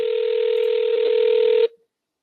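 A phone dialing out to an AI hotel check-in agent gives a steady call-progress tone for about a second and a half, with a few brief tone blips partway through, then cuts off into silence.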